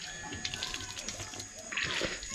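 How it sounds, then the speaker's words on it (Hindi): Running water splashes as hands are washed at the Dunagiri Mata temple, a steady tap flow with sloshing that grows louder near the end, under background voices. "हाथ धो लो"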